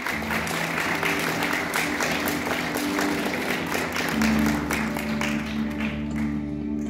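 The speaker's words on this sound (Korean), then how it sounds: "박수로 환영해 주세요." An audience claps to welcome an Ajou University professor onto the stage at a careers roadshow, with steady applause running the whole time over a background musical tone.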